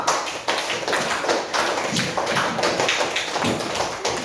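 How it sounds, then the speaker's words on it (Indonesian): A classroom of students claps for a classmate named Anto during a lesson, a dense, steady patter of many hands filling the room for several seconds without talk. "tepuk tangan untuk Anto"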